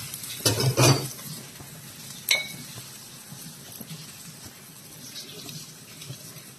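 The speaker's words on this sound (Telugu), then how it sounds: "ఇదిగోండి పెనం మీద వేసేసుకుందాం. కొంచెం నెయ్యి వేసుకుందామండి." A paneer cheese paratha is laid on a hot griddle with ghee, bringing a couple of sharp utensil clinks and scrapes early on, followed by a quieter steady sizzle, with no speech.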